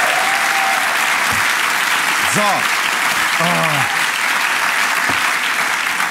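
Studio audience applause welcoming a guest onto a talk show set, a loud, dense, continuous clapping that fills the whole stretch while the host speaks a few short words over it.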